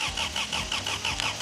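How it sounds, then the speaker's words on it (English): A car built from scrap in the woods cranks without starting, its starter turning the engine over in a rapid, even rhythm of repeated chugs, loud and close. "Great, the engine's turning over."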